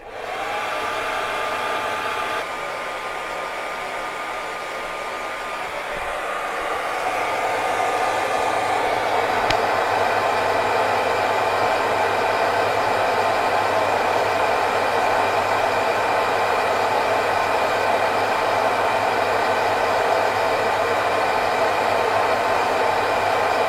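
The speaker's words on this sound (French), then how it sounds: "On continue avec ce sèche-cheveux." A hair dryer starts up and runs steadily, a loud continuous whooshing hum with a whine, shifting to a stronger airflow partway through.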